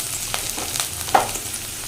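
Garlic sizzles in hot oil in a kadai with a pinch of salt, a steady close crackle and hiss with occasional louder pops and a brief stirring scrape, no voices.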